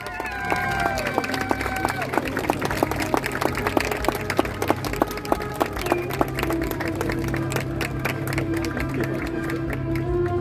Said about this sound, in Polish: wielkie brawa dla niego